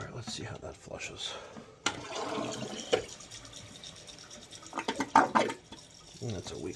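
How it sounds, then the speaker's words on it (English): Weak flush of a Toto toilet: a brief watery gurgle and swirl with some splashy bursts, while someone talks quietly over it. "That's a weak flush."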